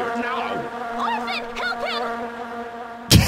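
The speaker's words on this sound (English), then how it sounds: "Mosquitoes." Insect buzzing from mosquitoes in the video game Orphen: Scion of Sorcery, a steady close whine with wavering pitch sweeps that carries on without a break, plus a short loud burst right at the end.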